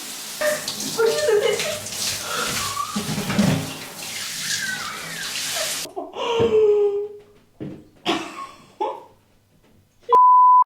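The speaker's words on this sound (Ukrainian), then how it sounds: "я включила холодну воду і дивлюсь на неї" Cold tap water runs in a steady broadband rush for several seconds, then stops; a few short clatters and a brief electronic beep follow.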